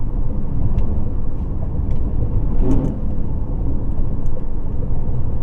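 A 2024 Toyota Corolla Cross Hybrid Nightshade drives at 45 mph over a bump, with steady road and cabin rumble throughout and a brief soft thump midway.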